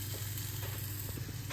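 Vegan bagel filling ingredients fry lightly in a pan, giving a soft, continuous sizzle with faint crackles, close by and alone.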